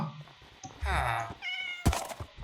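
A cat in Minecraft meows loudly and close by, one drawn-out call and then a shorter one, with someone talking briefly and game noises around it.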